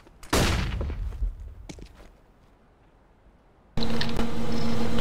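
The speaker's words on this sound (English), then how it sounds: "Deploying flashbang." A flashbang thrown in the shooter game CS:GO: a sharp burst near the start, scattered clatter and a few footstep-like knocks, a quieter lull, then an abrupt loud sustained ringing tone that holds to the end.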